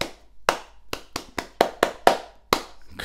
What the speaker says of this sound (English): Clapping the words and singing them in your head.